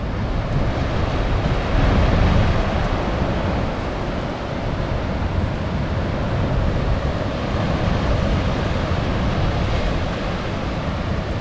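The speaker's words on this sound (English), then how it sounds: "Nice big waves coming in." Heavy surf rolls in steadily at Thunder Hole in Acadia National Park, a continuous roar of breaking ocean waves with gusts of wind buffeting the microphone.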